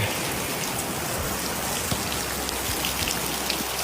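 Heavy, non-stop rain pours steadily during a typhoon, a dense continuous hiss of drops on surfaces with occasional louder nearby splashes, no voices.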